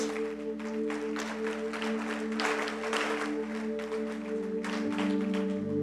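A church congregation breaks into applause, dense clapping that swells and thins in waves over a sustained steady tone, with no talk over it.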